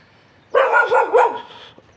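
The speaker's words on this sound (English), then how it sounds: "it made me jump, that dog" A dog in Bauru, Brazil, near the old railway station gives a quick run of three sharp barks close by, then falls silent.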